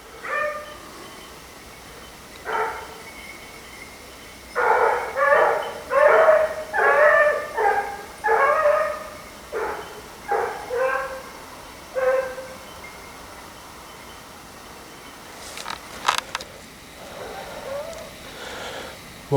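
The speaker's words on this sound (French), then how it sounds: "les chiens sont en face" Large blue basset hounds bay and yelp while hunting hare, in a series of rhythmic bursts, moderately distant, with a short pause and a few sharper cries near the end.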